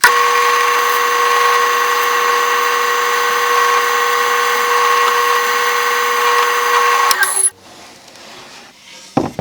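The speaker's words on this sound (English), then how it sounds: "I'll do these 4 holes that way, and then I'll come back and drill the 1/4 inch hole." A power drill with a Forstner bit bores holes into wood for a MicroJig 360 sled, a steady loud whine running about seven seconds before cutting off into quiet workshop noise.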